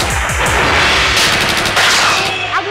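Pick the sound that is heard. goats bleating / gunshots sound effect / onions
gunshots sound effect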